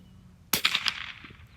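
A single sharp rifle shot during a squirrel hunt in the woods, a sudden crack with a brief ringing tail, fired at a fox squirrel against quiet outdoor background.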